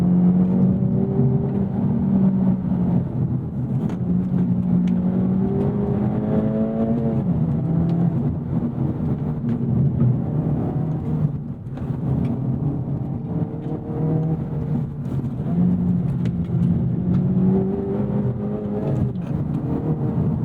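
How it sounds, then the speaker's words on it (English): Turbocharged Acura Integra Type S engine revving while driving on a canyon road, a steady in-cabin drone rising and falling in pitch with throttle blips and rev-matched shifts, loud and continuous with no talking. "Nice throttle response, even though it's a turbocharged engine, able to easily rev match."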